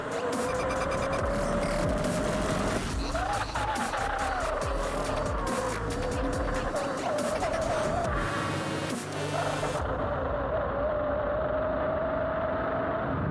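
A Bronco Xtrem 11 high-powered electric scooter's wheel spins with traction loss, giving a loud, continuous motor whine that wavers in pitch over steady broadband noise, close to the microphone.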